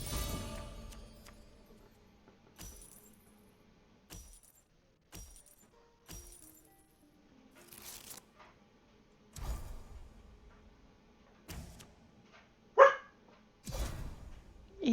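A large, anxious pet dog barks in several short, sharp bursts spread through a quiet room, with pauses between each outburst and a few louder clattering hits near the end.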